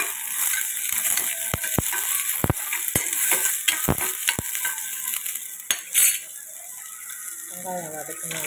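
Onions sautéing in hot oil for apple chutney, a steady close sizzle broken by sharp clinks and scrapes of a stirring spoon against the pan, with a few louder clatters near the end.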